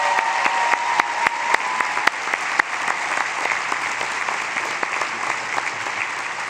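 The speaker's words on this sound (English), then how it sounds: "please join me in a warm round of applause for Bridgewater's finest." Audience applause fills a university commencement ceremony, a dense, steady wash of clapping with sharper individual claps standing out, sustained throughout with no speech over it.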